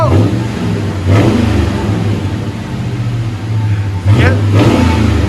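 A 2005 GMC Sierra Denali with a 6.0L V8 and true dual Magnaflow exhaust rumbles at a deep, steady idle, then snaps into two sharp revs near the start and again toward the end, loud and close.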